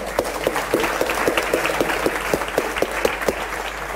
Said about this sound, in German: Nochmal ein Applaus.